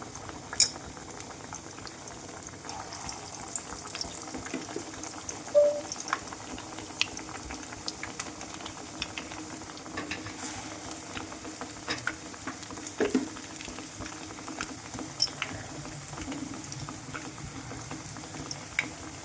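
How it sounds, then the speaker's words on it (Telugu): Potato bajjis for a street-style snack frying in hot oil, a continuous bubbling crackle with scattered small pops and faint utensil clinks, with no talk. "ఆయిల్ అంతా మంచిగా హీట్ అయిన తర్వాత వేసుకుంటే మనకు బజ్జీలు కూడా మంచిగా వస్తాయి"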